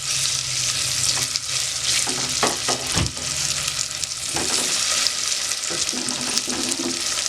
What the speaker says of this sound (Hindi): ये हम तड़का तैयार कर रहे हैं दाल के लिए।